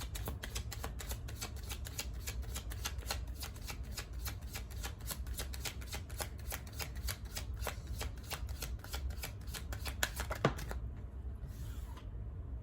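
Tarot cards are shuffled up close in a continuous, quiet riffling patter of rapid soft clicks that stops near the end, with no talking.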